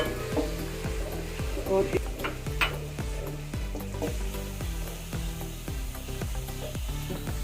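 Chopped onion dropped into hot oil for a restaurant-style chicken masala, frying with a loud, continuous sizzle broken by regular scraping strokes of a spoon stirring the pan, with a brief spoken word at the start.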